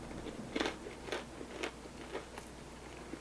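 Bites into crunchy, overcooked vegan food at a restaurant make a series of faint, close crunches at a steady chewing rhythm, with no talking.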